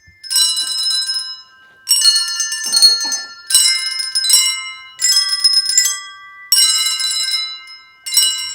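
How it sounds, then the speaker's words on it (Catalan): Handbells played by schoolteachers in a rhapsody at a Santa Cecília school concert, ringing in six bright, sustained phrases separated by brief pauses, loud and close with no voices. "El professorat ha interpretat amb una presentació irònica una rapsòdia amb campanes."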